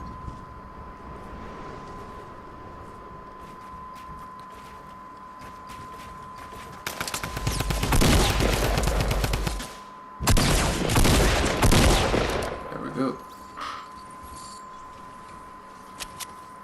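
Tommy gun fire in the Fortnite battle royale endgame, two dense loud bursts of rapid automatic shots separated by a short pause, with softer game sounds and a steady tone underneath and no speech.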